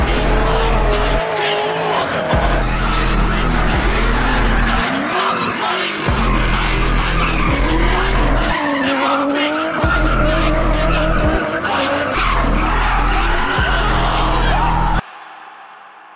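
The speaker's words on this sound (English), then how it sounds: "Screeching tires, car tricks, and crowds." In the CarX Street open-world racing game, tires squeal and skid loudly over roaring engines, long screeches sweeping up and down for about fifteen seconds before cutting out abruptly.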